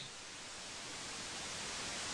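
Steady, dense hiss of static noise from the horror video game I See You fills the short stretch at constant loudness, broadband and unbroken, with no voices.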